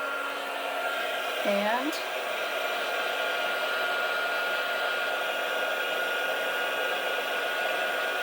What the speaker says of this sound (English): I'm bringing in a heat tool. This will be loud for a few minutes.